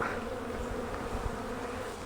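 Bees buzz around a beehive in fall, a soft continuous droning hum from several insects close by, with no voices.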